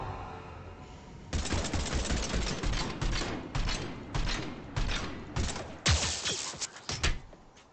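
Rapid automatic gunfire in Mass Effect 3 hammers in repeated loud bursts, close and harsh, with brief gaps between volleys and a final few scattered shots.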